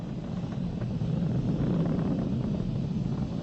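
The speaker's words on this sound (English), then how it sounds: "We're throttling back up to full power as we're through max Q." A SpaceX Falcon 9 rocket climbs supersonic past max Q and throttles back up to full power. Its engines make a continuous, distant-sounding roar and rumble with wind-like noise.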